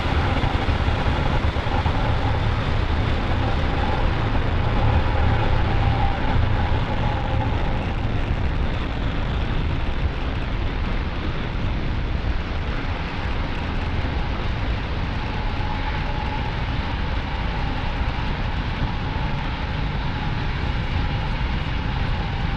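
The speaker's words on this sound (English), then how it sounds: "Falcon 9 successfully lifting off from Pad 40 at the Cape Canaveral Space Force Station" A Falcon 9 rocket lifting off from Pad 40 at Cape Canaveral Space Force Station produces a continuous, dense, thunderous roar that holds steady and loud throughout, with no speech.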